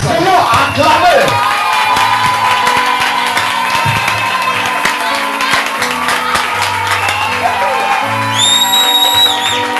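A church congregation cheers and acclaims loudly and continuously, a dense crowd roar with shouts and whoops over music throughout.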